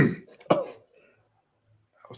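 A couple of sharp, close coughs at the start, then near silence, with a brief throaty burst at the end.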